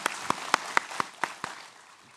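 A church congregation at a Sunday worship service gives a brief round of applause, heard as about seven sharp, evenly spaced claps that fade quickly into quiet.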